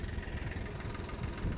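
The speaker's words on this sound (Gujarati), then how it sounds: "અહીંયા આપણું ટ્રેક્ટર છે" A tractor engine runs on a farm orchard, a low, steady idling drone with a rough rumble, moderately close and continuous with no speech.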